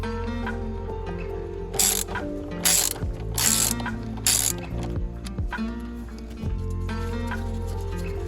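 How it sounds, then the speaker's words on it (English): Hand socket ratchet clicking in bursts as a 19mm nut is removed on a 2013-2018 Nissan Altima, rapid close pawl ratcheting with brief pauses and a few metallic knocks. "Remove with 90mm socket by hand."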